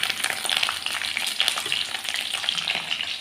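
Ginger and green chillies frying in hot oil for an egg roast, a close, bright crackling sizzle with sharp pops throughout, no talking.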